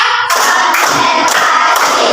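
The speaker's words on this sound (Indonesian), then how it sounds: "Tepuk 1, tepuk 2, tepuk 3, tepuk 4," A standing group of teachers in a coaching session claps together on a counted beat, strong unison claps about every half second over a busy room wash.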